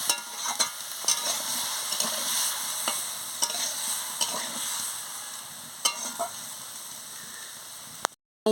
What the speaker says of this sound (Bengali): ফুলকপিটা মশলার সঙ্গে ভালো করে কষিয়ে নিচ্ছি